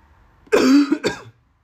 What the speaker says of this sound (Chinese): 还有点咳嗽啊，但问题不大。